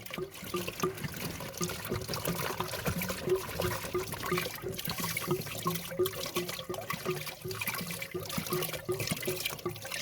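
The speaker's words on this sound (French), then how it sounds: "Voici le filtre à eau. Bah, mauvaise nouvelle, il est pas encrassé. On va le rincer comme ça, tiens." A heat pump water filter is rinsed under running water, giving a steady, close rush and trickle of water with uneven splashing that continues for the whole stretch.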